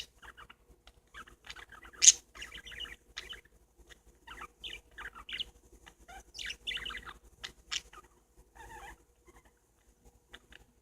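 Pet parakeets chirping indoors, a scattered series of short, thin tweets and chatter with one sharp louder call, fairly close and otherwise quiet.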